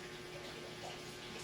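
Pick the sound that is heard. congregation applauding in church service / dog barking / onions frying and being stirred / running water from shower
running water from shower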